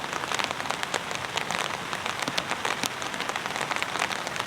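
Steady rain pattering on a tarp shelter at a campsite, a dense continuous hiss of drops with scattered sharper taps, close and fairly loud, with no talk.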